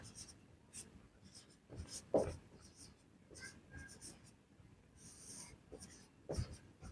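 A pen scratches across paper while a maths proof is written out, short faint strokes and taps in irregular bursts with quiet pauses between, close by and without speech.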